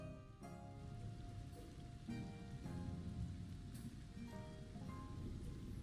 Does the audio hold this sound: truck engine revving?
no